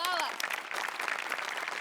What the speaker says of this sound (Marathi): तुझ्या प्रसंगावधानासाठी जोरदार टाळ्या.